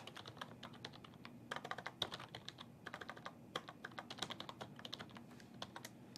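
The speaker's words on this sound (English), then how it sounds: "Once again, we have to type the server name out." Fingers tap out a server name on a computer keyboard during a directory services setup: soft, quiet keystrokes in quick clusters with brief gaps, heard alone in a still room.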